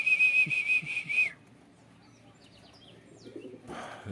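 Racing pigeons, old birds out for exercise, call outdoors: a steady whistling tone with soft chirps for about a second, then quieter scattered bird sounds and a faint background hum.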